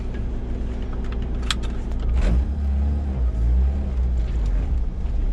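A K-swapped Honda Civic coupe drives along, its engine a steady low drone with a couple of swells in revs, heard from inside the cabin with road noise.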